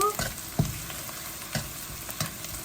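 Onions, green chillies and curry leaves sizzle steadily in a pan, close and continuous, with a few soft scraping stirs spaced through the sound.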